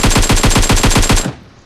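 Rapid automatic AKM rifle fire in PUBG Mobile, a loud sustained burst of about ten evenly spaced shots that cuts off abruptly.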